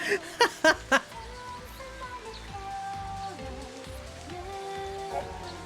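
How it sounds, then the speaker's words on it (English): Steady rain pattering from a weather-control sphere in the Final Fantasy XIII video game, with a few sharp louder drops at the start, then an even hiss under in-game music tones. "These spheres modulate precipitation levels in the surrounding area."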